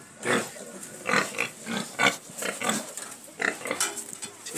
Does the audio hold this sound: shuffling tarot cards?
no